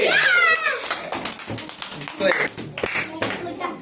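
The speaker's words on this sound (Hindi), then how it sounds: "इसके लिए तालियां होनी चाहिए" A few people clap for children who got an answer right, scattered claps mixed with children's voices and an adult talking nearby.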